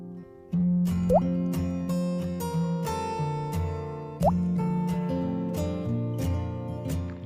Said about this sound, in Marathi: हे साल काढलेले बटाटे पाण्यात टाकून ठेवू.